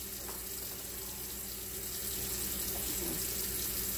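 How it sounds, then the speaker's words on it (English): Water pours steadily from a tap into a cooking pot of greens, a quiet continuous rushing splash with no talk. "I'm going to put a little bit more cup of water in"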